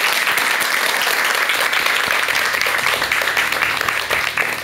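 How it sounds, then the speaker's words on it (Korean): An audience at a talk on living as a bodhisattva breaks into sustained, dense applause, many hands clapping together fairly close and loud, tapering slightly near the end with no speech over it. "큰 박수 한번 부탁드리겠습니다"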